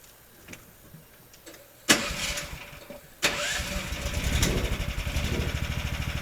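An engine is started after a few faint clicks, with two sharp cranking bursts before it catches. It then settles into a close, throbbing run and rises as the vehicle pulls away.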